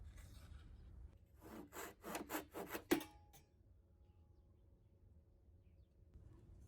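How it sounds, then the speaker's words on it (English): A hand saw works through a piece of wood marked with a marking gauge, several quick rasping back-and-forth strokes close by and then a sharp final click before quiet room tone. "Then, I use a marking gauge to mark where to cut and cut it."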